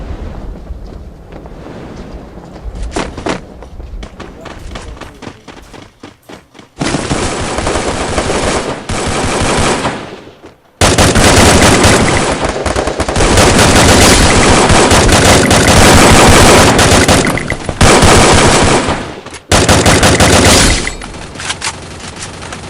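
Loud, sustained automatic gunfire with bursts of machine-gun fire and heavy wind-like rumble in a PUBG-style battle royale game, nearly continuous with brief pauses and short gaps.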